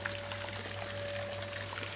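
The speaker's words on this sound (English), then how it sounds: "Got a little water wheel going." A small water wheel in an outdoor rest area by a mountain hiking trail splashes steadily, giving a continuous even wash of falling and churning water with a faint steady hum underneath.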